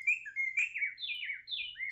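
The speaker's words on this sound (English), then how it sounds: "Some nice birds chirping there." Recorded birdsong played back through an MP3 trigger sound module on an Arduino: a few clear chirps and warbling tweets in quick succession, bright and isolated against silence.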